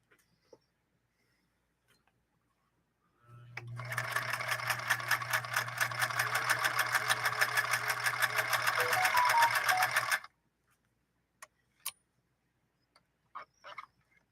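A 1954 Canadian sewing machine set to a shortened stitch runs steadily for about seven seconds, a fast even close chatter with a low motor hum. Quiet clicks follow after it stops.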